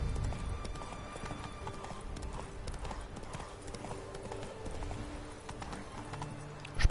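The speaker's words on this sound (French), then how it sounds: "Courir avec mon cheval?" Horse hooves clip-clop steadily in The Witcher 3, a continuous trotting rhythm close by over the game's ambient background, with no talk.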